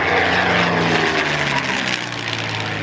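A 1944 Photo Reconnaissance Spitfire Mk XI, flown by 16 Squadron, passes at an air show with a loud, rough propeller-engine roar whose pitch slides gradually downward as it moves away, heard alone with no talk.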